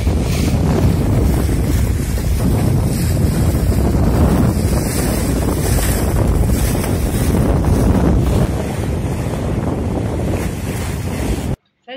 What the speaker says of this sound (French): on aura fini à la voile. Petite route vers Marménor. Joli pré, on fait des pointes à quasiment 6 nœuds.